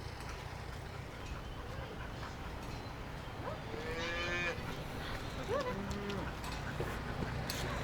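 Cows on a farm low several times, a couple of drawn-out moos rising out of a steady outdoor background at moderate distance, with no clear talk.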